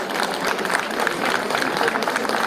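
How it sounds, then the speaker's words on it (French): A crowd at an Indian cultural fair applauds as a deputy mayor is called forward, steady dense clapping with crowd murmur running through it. "Je vous demande d'applaudir Yasmine Boujnam"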